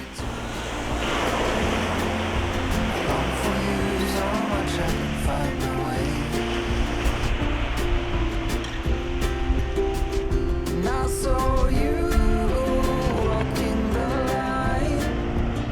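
Waves break and wash onto the long white-sand shore of Whitehaven Beach in Australia, a steady, full surf roar filling the whole stretch without pause.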